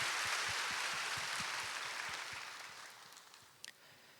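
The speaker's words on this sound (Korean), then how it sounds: "하나님께 영광의 박수 올려드리겠습니다." A congregation at a Sunday morning church service claps together, a dense, soft wash of applause that gradually fades out over a few seconds, with a couple of stray noises at the end.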